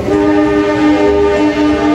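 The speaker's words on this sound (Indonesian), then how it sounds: "Ini kereta api Serayu 20308 PWT Squad 2 nih." The Serayu passenger train passing on an Indonesian railway with a loud, sustained, steady horn blast over rumbling rolling noise, very close and filling the whole clip.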